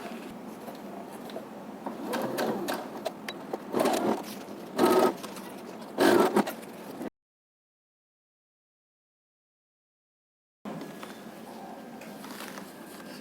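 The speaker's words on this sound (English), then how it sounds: "so let us understitch." Sewing machine understitching a garment facing, running in short bursts of rapid stitching with pauses for fabric handling, then a silent gap before quiet machine noise resumes.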